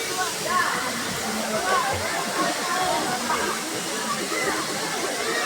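The waterfall at Daranak Falls pours in a constant broad rushing hiss, moderately loud and close, with faint voices mixed in underneath.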